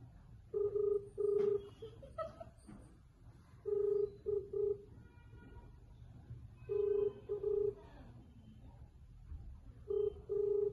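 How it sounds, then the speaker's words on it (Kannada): Telephone keypad dialing tones for a prank call, several bursts of short loud DTMF beeps in quick clusters separated by brief pauses, with faint background noise between them. "ನೀವು ಡಯಲ್ ಮಾಡಿ ಕಟ್ ಮಾಡ್ತಾರೆ"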